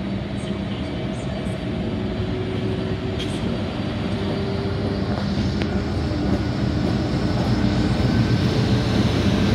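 An NR class locomotive hauling a train past in Marrickville, a steady loud rumble with wheel and rail clatter continuing throughout.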